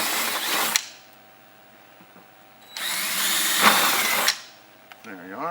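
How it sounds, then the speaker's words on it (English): Two bursts of a power drill whirring as it bores holes through a drawer, about a second and then a second and a half, separated by quiet, with a brief noise at the end. "go ahead and drill 2 holes through your drawer"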